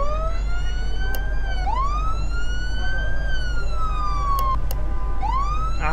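Wailing emergency siren from the game Flashing Lights, long slow rising and falling sweeps with a few short chirps, loud and up front over a constant low engine hum.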